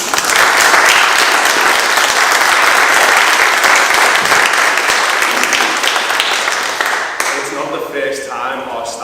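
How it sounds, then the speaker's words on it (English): Council meeting attendees give loud, sustained applause for leisure centre staff, a dense wall of clapping that gradually fades, then gives way to a speaking voice near the end. "So can we just give those people a massive round of applause, please?"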